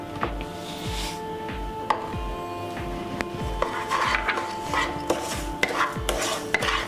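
Semolina and sugar being stirred together for sooji halwa in a pan, with repeated scraping strokes and light metallic clinks from the utensil against the pan, close and steady.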